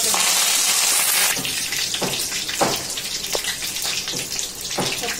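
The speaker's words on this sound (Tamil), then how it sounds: "அதில் காஞ்சி மிளகாய் சேர்த்துக்கிறேன்" Dried red chilies hit hot oil in a pan for pepper kuzhambu, a loud bright sizzle at first that settles into a steadier frying crackle with scattered stirring knocks.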